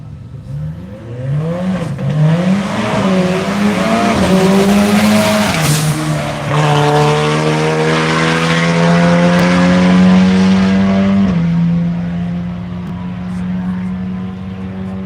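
Race cars, one of them a Tesla, sweeping through the first corner of a track during Tire Rack One Lap of America, loud engines rising and falling with squealing tyres as they pass close by.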